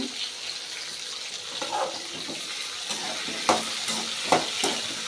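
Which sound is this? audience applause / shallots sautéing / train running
shallots sautéing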